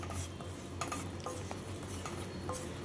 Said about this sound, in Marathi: म्हणजे ते सुद्धा तळले जातील या पिठाबरोबर.